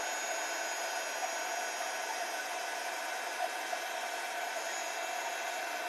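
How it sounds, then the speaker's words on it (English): An embossing heat tool blows steadily over a stamped design, a constant, fairly quiet whirring rush of hot air with a faint motor hum, running alone without pause. "as it goes raised and shiny, you can just move the heat tool over the design"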